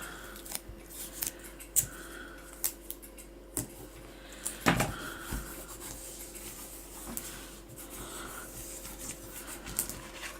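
Scissors snip through paper while covering a Christmas mixed media diary, a series of crisp, close cuts arriving in irregular bursts with small rustles and handling noises between them, no voices.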